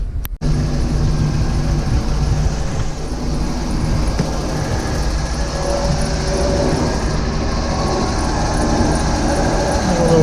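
A Meridian 341 boat's engine starts for the first time after winterization with a sharp click and then runs steadily, a loud, continuous mechanical drone that holds for several seconds.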